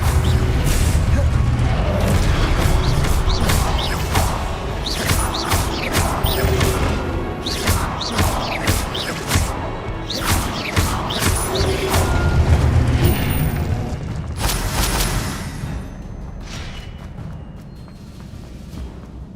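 The Expelliarmus spell is cast in Hogwarts Legacy during a busy fight, with sharp cracks, whooshes and heavy crashing impacts firing in quick succession before thinning out toward the end.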